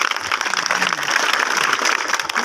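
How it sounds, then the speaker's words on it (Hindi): Crowd applause at an outdoor Saraiki political rally (jalsa) for a member of the national assembly in Masti Khel, a steady dense patter of clapping filling the whole stretch without a break. "एक बार फिर भरपूर जोरदार तालियां"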